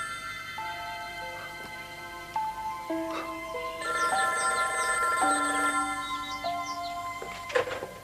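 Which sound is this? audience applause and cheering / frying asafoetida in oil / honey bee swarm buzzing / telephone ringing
telephone ringing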